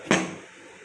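A lid set down on a cooking pot with a single sharp metallic clink, then a short fading ring, heard close and alone.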